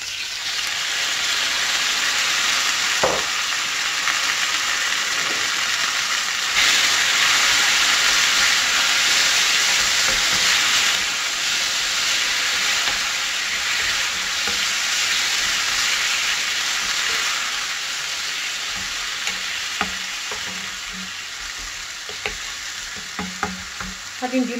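Chicken pieces frying in hot oil in a home kitchen, a loud, dense, unbroken sizzle and steamy hiss, with a few clinks and stirring sounds toward the end and no speech.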